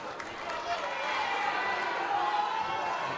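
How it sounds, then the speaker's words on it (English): A crowd cheers a successful top at the IFSC Youth World Championships bouldering competition in Innsbruck, a dense, steady roar of many voices that swells slightly and holds throughout. "you might have heard the cheer"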